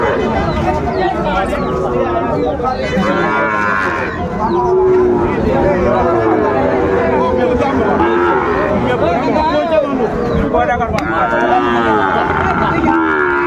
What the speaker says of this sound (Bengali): শাহিওয়ালের ষাঁড় বাচ্চা আমরা দেখছিলাম